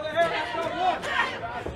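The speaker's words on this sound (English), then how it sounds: "Crowd chanting for Tara Zep." Wrestling crowd at a WPW Slams of Summer event chanting for Tara Zep, a dense wash of many voices with rhythmic swells, close and loud throughout.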